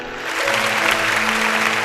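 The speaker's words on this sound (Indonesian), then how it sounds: "Beri tepuk tangan untuk Tuhan." Church congregation breaking into loud, dense applause after a prayer in a sermon service, swelling quickly and holding steady.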